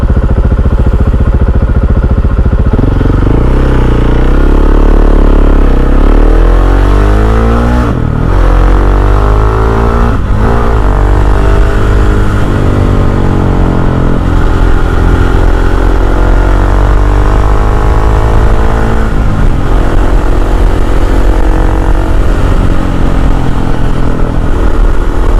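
A KTM 690 SMC R supermoto's single-cylinder engine drones loud and close while riding, pitch sweeping up and down through gear changes and throttle, with a couple of brief dips; no talking.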